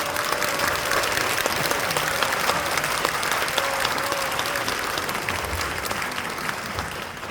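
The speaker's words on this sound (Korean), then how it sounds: "박수 한번 주세요" Sustained applause from a church prayer-meeting audience welcoming a lawmaker, dense and steady throughout with a faint tone and crowd murmur underneath.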